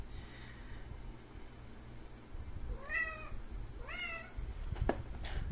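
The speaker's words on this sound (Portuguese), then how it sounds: "o gato começa a miar, é isso que acontece" Two short rising-falling cat meows, played as a sound from a CCE TF74W tablet while it charges, ring out clearly over a steady low electronic hum, followed by a couple of faint clicks.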